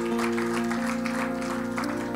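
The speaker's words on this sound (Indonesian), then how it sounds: "Kasih tepuk tangan buat Tuhan yang luar biasa." Church congregation clapping in praise to God during an Indonesian worship service, a dense spread of hand claps over a sustained tonal backdrop, likely music, at moderate level.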